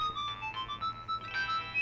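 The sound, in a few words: phone ringtone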